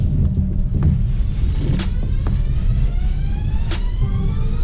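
A 2019 Toyota RAV4 on all-season tires crawls off-road over rocks, its engine a steady low rumble throughout with occasional faint creaks and knocks from the body and suspension, heard from inside the cabin with no talking.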